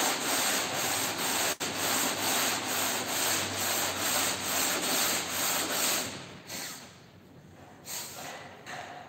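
Steady, close scraping of a sanding block rubbing back and forth over car body filler, a continuous harsh abrasive hiss that thins out and stutters in the last few seconds.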